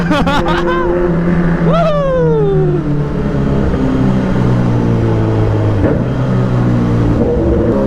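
A car with a burnout exhaust revs loudly inside the EDSA tunnel under the Skyway, its engine note climbing and falling in a continuous, echoing roar close by.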